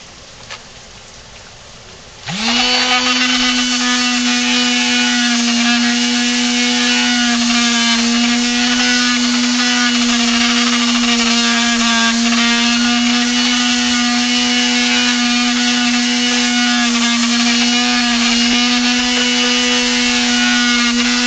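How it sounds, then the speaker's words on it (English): A Dremel rotary tool carves a wooden ventriloquist dummy figure, its motor spinning up after a quiet start and holding a steady, loud, high-pitched whine with a gritty grinding edge for the rest of the clip. "these attachments with our Dremel for the tight spots"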